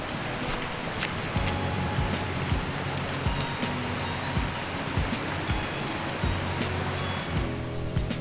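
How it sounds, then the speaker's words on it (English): Queen Mary Falls, a waterfall running during a very dry spell, with a constant broad rush of falling water close by, steady and unbroken, with no voices over it. "So there we have Queen Mary Falls in behind me there."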